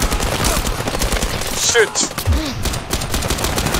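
Gunfire from the co-op VR shooter Zero Caliber on a frosty level, loud rapid shots under a player's excited shouting and talk, mixed with game noise.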